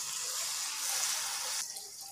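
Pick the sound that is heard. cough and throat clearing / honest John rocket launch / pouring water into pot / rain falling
pouring water into pot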